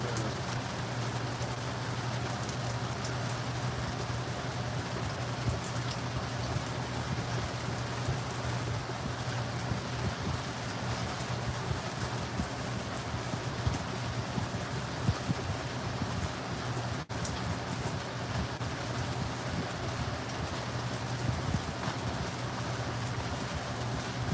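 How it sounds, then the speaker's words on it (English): Heavy rain pours steadily and loudly, a dense, unbroken hiss of drops drumming on surfaces that runs evenly from start to finish, with a low rumbling hum underneath and no voices. "Rainy, dark, severe."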